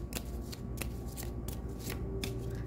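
Tarot cards being shuffled by hand, a quiet series of crisp riffling bursts repeating at a steady pace over soft background hum.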